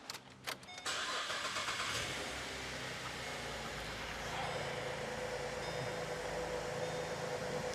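A GM car engine cranks briefly after a few clicks, catches and settles into a steady, fairly loud idle that runs on to the end, with no voices.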